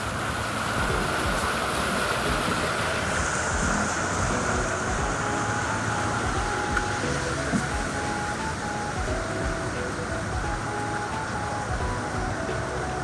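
Overflowing river water rushes in a steady, broadband roar that holds constant throughout, with no voices.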